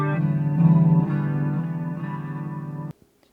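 An electric guitar played on its bridge pickup through distortion and chorus effects rings out in a sustained close chord with wavering tone for about three seconds, then is abruptly cut to silence.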